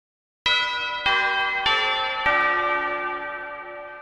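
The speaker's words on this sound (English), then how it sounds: "This is a four note sequence, typical of Christmas songs." Four bell-like notes from the Sonic 2 video game soundtrack ring in sequence, a Christmas-style chime pattern with each strike roughly half a second apart and the last tone left to ring and fade.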